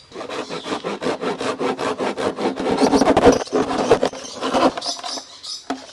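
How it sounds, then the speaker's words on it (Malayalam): Dry bamboo is hand-sawn into pieces in a backyard. Close, rhythmic back-and-forth rasping strokes repeat rapidly, then slow and break up near the end, with no talking. "ഈ മുളയനെ ആവശ്യത്തിന് നീളത്തിൽ രണ്ട് പീസായിട്ട് കട്ട് ചെയ്യാവേ"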